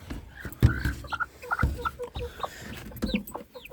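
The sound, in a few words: chickens clucking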